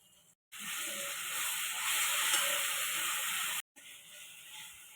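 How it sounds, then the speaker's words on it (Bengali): Tomato paste hitting hot oil with reddish fried onions for egg biryani sets off a loud, steady sizzle that swells and holds for about three seconds, cuts off abruptly, then returns as a quieter hiss. "একটা টমেটো পেস্ট দিয়ে দিচ্ছি।"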